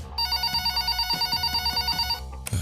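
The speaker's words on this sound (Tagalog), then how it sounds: "Wala sa sariling bumangon si June para sagutin ang nagriring na telepono" A telephone bell rings in rapid, continuous trills for about two seconds, then stops abruptly.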